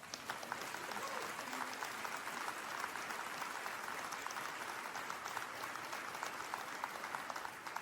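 An audience claps steadily for several seconds, a dense, even spread of many hands filling the room at conference-hall distance.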